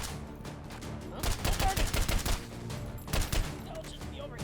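Rapid gunfire in a first-person shooter video game, bursts of shots that crackle densely in two clusters, with the firing stopping as ammunition runs out.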